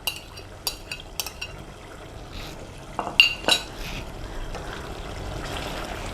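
A spoon scrapes and clinks through a pan of chicken chole with green chili and coriander, sharp metallic taps early, then a softer continuous stirring and faint sizzle.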